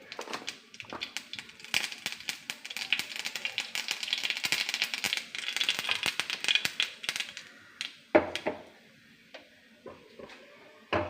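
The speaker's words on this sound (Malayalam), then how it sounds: "കടുക് ഇട്ടപ്പം തന്നെ പൊട്ടുന്നുണ്ട്" Mustard seeds pop and crackle in hot coconut oil for a spinach stir-fry, a dense run of sharp close ticks and rattling bursts with a few louder snaps near the end, no talk over them.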